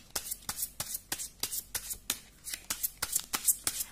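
Tarot cards being shuffled by hand, a rapid series of about a dozen crisp riffling flicks in a quick, slightly uneven rhythm, close and clear with no talking.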